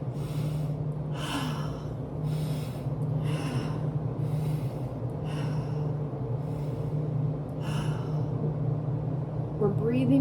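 Deep rhythmic breaths in a Kundalini yoga exercise, several long inhales and exhales spaced a second or two apart over a steady low hum, with brief vocal sounds near the end.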